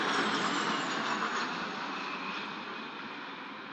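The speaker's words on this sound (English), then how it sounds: "we're looking at the RC-135 rivet joint, another one of the Royal Air Force's I-Star aircraft" An RAF RC-135 Rivet Joint aircraft passing overhead during the RAF centenary flyover at Buckingham Palace, a broad jet roar that is loudest at the start and slowly fades as it moves away.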